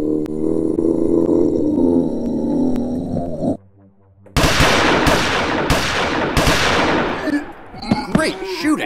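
Gunfire in a first-person shooter video game: after a steady tonal in-game sound and a short silence, a series of loud, sharp shots rings out close up, roughly every half second, then fades into scattered echoes.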